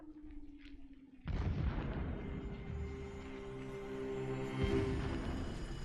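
Explosions rumble in Horizon Zero Dawn, a sudden loud boom followed by sustained crackling, rumbling blasts with a steady mid-range drone and another swell near the end, with no talk.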